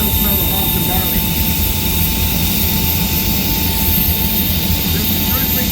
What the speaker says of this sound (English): 1967 Jet engine powered tractor built by Bruce McDaniel